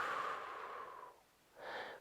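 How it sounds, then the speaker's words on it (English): Slow breathing during a psoas hip flexor release on a ball, a long soft exhale followed by a pause and a shorter breath, close and quiet with no talk. "Breathing."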